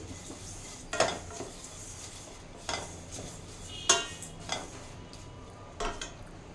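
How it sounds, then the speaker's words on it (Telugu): Flattened rice (poha) stirred in ghee in a pan for a sweet payasam, heard as a faint dry rustle with several distinct clinks and scrapes of a spoon against the vessel, no talking. "ఇవి అటుకులు ఫ్రై అవుతున్నాయి"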